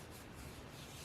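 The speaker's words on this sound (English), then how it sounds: "I'm just gonna put a little bit on my fingers here and rub it in" Estee Lauder Advanced Night Repair serum rubbed into the fingertips, making a continuous soft close friction sound that stays even throughout, with no voices.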